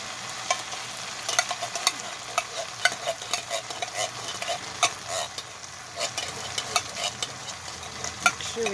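Bacon corn chowder with creamed-style corn is stirred in a pot, a spoon scraping and clinking in quick irregular strokes over a low bubbling simmer, close and fairly loud.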